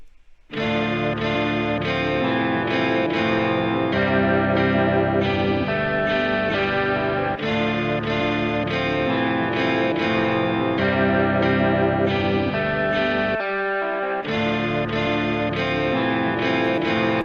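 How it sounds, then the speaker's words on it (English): Sustained electric guitar chords ring out together, washed in spacious reverb and shimmering effects, playing continuously with one brief drop near the end. "And here are the guitars by themselves together."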